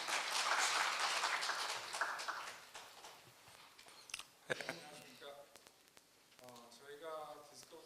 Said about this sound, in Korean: 모두 큰 박수로 맞이해 주십시오